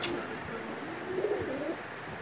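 Soft, low cooing from an Afshan grizzle male racer homer pigeon, a few murmured coos drifting over steady room hiss, faint and fairly close.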